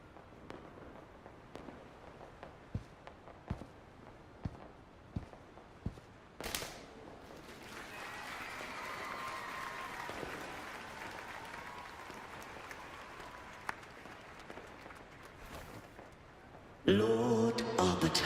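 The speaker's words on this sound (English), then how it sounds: "Hear that? The thunderous roar of applause." Crowd applause in a video game: scattered sharp pops give way to a steady roaring clap that holds for several seconds, then a louder burst of noise cuts in at the end, with no talking.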